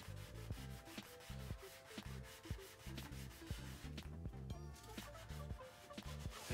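Hand sanding of a Focus ST alloy wheel face to take off the shine, a steady scratchy rubbing with regular back-and-forth strokes, close and continuous with no talk.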